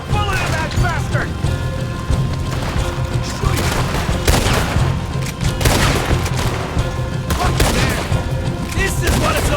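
Rapid gunfire and heavy booms from a Red Dead Redemption 2 shootout, with dense, overlapping shots running through the whole stretch amid shouting voices.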